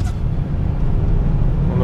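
An old car running on LPG gives a steady, close low engine drone with road rumble as it pulls away from a pedestrian crossing in town, and a voice talks over it.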